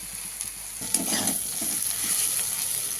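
Malabar spinach (pui shaak) leaves fry slowly in oil, a soft, even sizzle with a couple of faint stirring scrapes close by.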